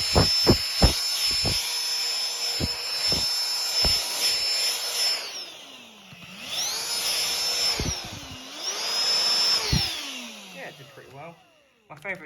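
A Dyson DC16 handheld vacuum runs with a high, loud whining motor that winds down and spins back up twice, with clicks and knocks of handling at the start.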